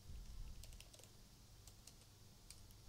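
Code is typed on a computer keyboard in a steady patter of light key clicks over a low background hum, with no talking.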